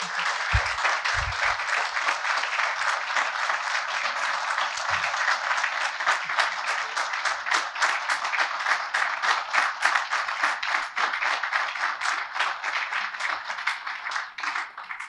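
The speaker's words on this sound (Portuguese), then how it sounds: "A plateia aplaude entusiasmadamente o encerramento da palestra de Eugênio Butti." A lecture audience claps enthusiastically at the close of a talk, dense applause rolling on steadily for around fifteen seconds with no voices.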